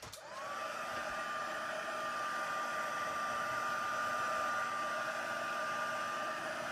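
A heat tool blows steadily on rubbing alcohol and ink spread over card stock, a constant close whirring hiss that starts abruptly and holds level throughout, with no talk.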